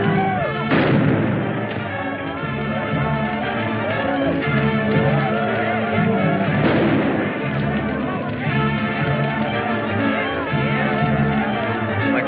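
Continuous gunfire and booming shots from a 1946 jungle adventure film, loud and dense throughout with sharp blasts, heavy thuds and a music score beneath.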